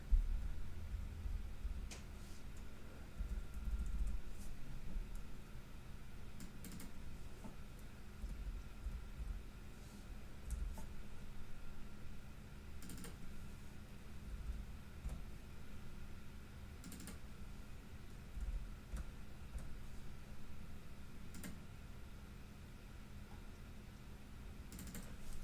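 Keys tap on a computer keyboard in scattered, uneven bursts, faint and close, over a quiet steady room hum with no talking.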